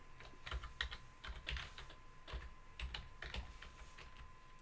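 Fingers type unevenly on a computer keyboard while entering a shell prompt setup, soft close clicks arriving in irregular bursts and pauses, fairly quiet throughout with no voices.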